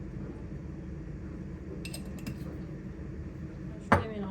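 A teaspoon clinks against kitchen utensils and dishes while salt is added during home cooking, with a few light metallic chinks over a low background hum and one sharper clink near the end.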